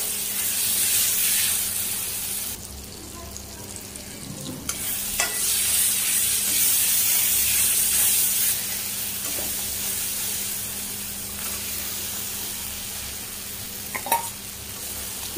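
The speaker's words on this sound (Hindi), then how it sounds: "अब हम इसमें डालेंगे हमारा फ्राई किया हुआ जिमीकंद" Fried elephant foot yam tipped into sizzling masala and stirred, a loud steady frying hiss with bursts of spattering steam, a few spoon knocks against the pan, close and without talk.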